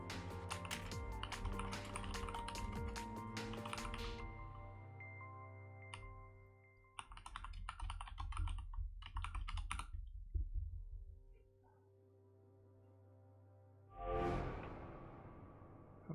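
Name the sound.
typing on a computer keyboard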